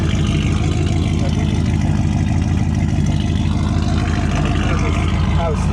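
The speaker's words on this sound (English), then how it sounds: "Let's have a listen to that burble then back here. There's some V8 power." A V8 engine with a straight-through exhaust and no silencer burbles steadily and loudly at close range, a constant low pulsing rumble with no clear revs.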